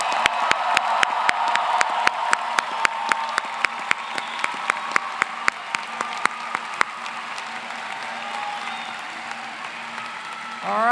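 Applause fills a hall at a medical school white coat ceremony for the graduating class, a dense wash of clapping carrying sharp individual claps and scattered cheers, then gradually thinning and fading toward the end.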